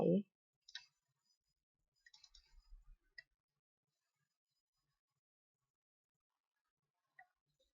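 A computer mouse gives a few sparse, quiet clicks, some singly and some in a quick cluster, heard up close with long silent gaps and a brief voice sound at the very start.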